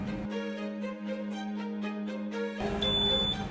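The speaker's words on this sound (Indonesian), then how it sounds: "buzzer berbunyi itu artinya sistem sudah berhenti" A centrifuge buzzer gives a string of electronic beeps as the system stops, heard over a steady hum with a tonal shift near the end. The sound is fairly quiet and no one speaks.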